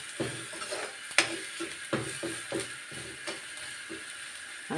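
Spice powders, garam masala and coriander powder, stirred and scraped in a pan for spicy misal, with a steady sizzle and repeated scraping clinks of a spoon against metal, close and moderately loud, no talking.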